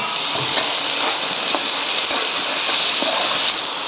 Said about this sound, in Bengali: দিয়ে দিলাম টমেটো কুচি দিয়ে আবার ভালো করে একটু ভেজে নেব